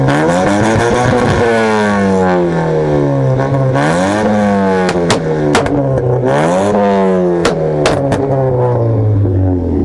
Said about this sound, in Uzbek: Qani bitta aka ovozlarni eshitdingiz buni?